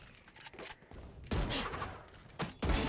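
Gunfire in a shooting video game with a Vandal rifle, heard as a few sharp bursts of shots separated by brief pauses, fairly loud and close.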